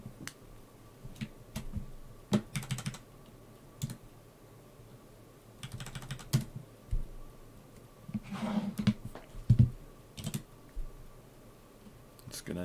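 Someone types a command into a Linux terminal on a computer keyboard, with scattered bursts of close, crisp key clicks and pauses between them, no talking.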